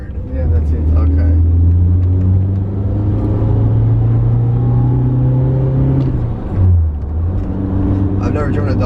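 A BMW E30 M3 with a dogleg gearbox being driven, its engine a loud steady low drone from inside the cabin that dips briefly as the revs change, with someone talking over it.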